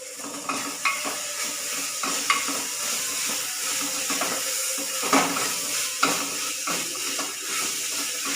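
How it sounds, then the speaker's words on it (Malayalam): Ginger paste sizzles and fries in a pan for egg curry, under steady loud frying with repeated scraping and clinking of a spoon stirring against the pan. "നമുക്ക് ഇഞ്ചി പേസ്റ്റ് ഇടാം."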